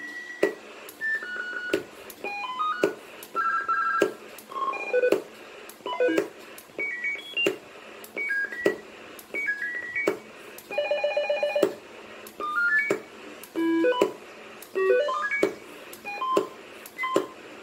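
A rapid, continuous run of electronic beeps, melodic tone sequences and chirps from a Cobra 19DX CB radio, following one another with sharp clicks between, loud and close.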